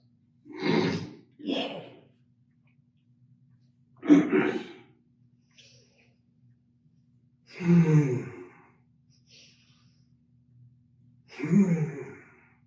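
Four strong nasal exhales during a yoga session, each a short breathy burst followed by a pause, with a soft fifth breath at the end; close, clear and without talk.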